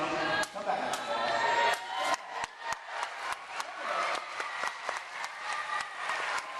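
A school assembly crowd claps in scattered, uneven bursts with crowd noise and voices mixed in as a student attempts a jump during a jump-rope team performance.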